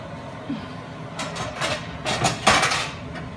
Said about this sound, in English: we'll cover it with a lid